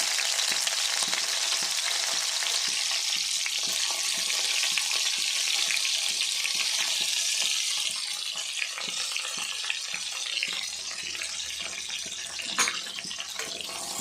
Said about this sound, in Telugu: వాటర్ కంటెంట్ పోయేంత వరకు చిటపట్లాడుతాయి.